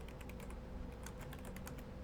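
Rapid clicking keystrokes on a computer keyboard at a gaming-stream PC setup, irregular bursts of fast taps heard fairly close over a steady background hum, with no talking.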